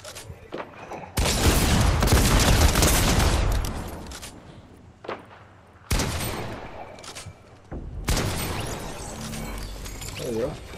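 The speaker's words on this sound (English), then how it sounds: "Oh, we got shooting now, north." Gunfire in Fortnite Chapter 2 Remix comes as several dense, loud bursts of rapid shots separated by short gaps, mixed with mechanical clatter, while a voice talks now and then.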